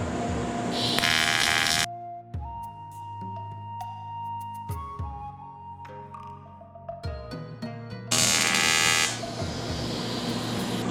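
A TIG welding arc struck with Blue Demon flexible tungsten hums and buzzes loudly for about two seconds, drops away to quieter background tones, then flares up again at full strength for the final three seconds.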